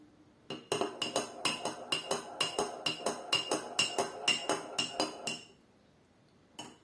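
A spoon clinks rapidly against the inside of a cup of water while stirring, about twenty quick metallic taps in a steady rhythm, close and clear, then stops.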